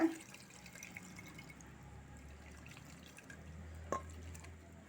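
Strained tamarind water trickles and drips through a strainer into a vessel for kalani kulambu, a soft, faint liquid patter with one or two sharper drips standing out.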